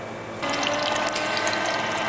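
A propeller mixer starts up in a pre-mixed water phase for a hydrating barrier cream, a steady whirring churn with clicky, ratcheting mechanical texture that kicks in abruptly after a short quiet moment.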